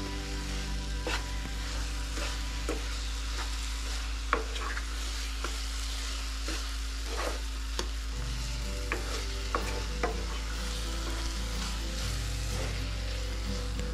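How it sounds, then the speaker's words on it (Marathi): A spoon stirs cardamom powder into ghee-cooked sheera in a pan, with repeated scraping strokes at an irregular rhythm over a soft sizzle and a steady low hum. "विलायची पावडर, ह्याला व्यवस्थित मिक्स करून घेऊयात।"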